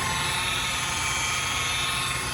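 A Mirka polisher spins a polishing pad on a car's paint during scratch removal, giving a continuous high-pitched motor whine with a steady hiss, running alone without talk.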